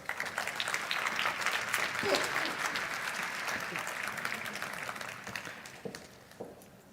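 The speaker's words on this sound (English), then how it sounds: "Give her an applause." An audience applauds the Deputy Mayor of The Hague at a UNESCO global forum against racism and discrimination, with even, sustained clapping from a large hall that fades out toward the end.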